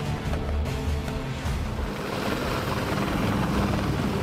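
A military helicopter flying with Marine air support, giving a steady, loud rotor and engine roar that holds at an even level throughout with no voices.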